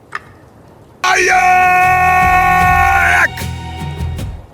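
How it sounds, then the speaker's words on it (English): A man lets out a long, wild bellowing scream in an audio drama, loud and sustained for about two seconds with a wavering pitch, then breaks off into muffled background sounds. "I'm all shivering from his wild scream"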